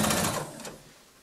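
A sewing machine runs a straight stitch along the hood edge of a jogging-fabric poncho in a short, close burst that slows and fades within about a second.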